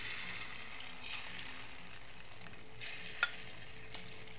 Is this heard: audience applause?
no